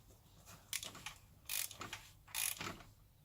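An oil drain plug being tightened on a Vauxhall Astra MK5 with a ratchet wrench, two or three short bursts of close, quiet clicking separated by brief pauses.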